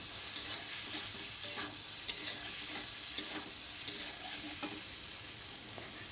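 Soybean chunks are added to a pan and stirred, a steady frying sizzle running throughout under light, regular ticks and scrapes of the spoon, close and without talk.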